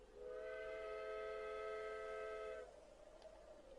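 A steam-style train whistle from a locomotive in Roblox Nowhere Railways blows one long steady chord for about two and a half seconds, loud and alone, then cuts off leaving a quiet background hum.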